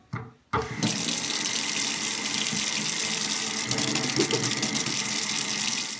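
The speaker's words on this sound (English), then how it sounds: "the first thing we're going to do is wash our hands." A tap is turned on and runs for hand washing before baking strawberry cupcakes, a short muffled clunk followed by a steady, close rush of water splashing into a sink, with faint rubbing and splashing as hands move under the stream.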